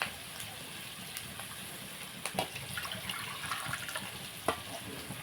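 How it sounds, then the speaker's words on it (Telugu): Water poured into a pan of dried prawn curry, a soft splashing and sizzle with a few sharp utensil clinks, fairly quiet and close. "వాటర్ వేసుకుందాం"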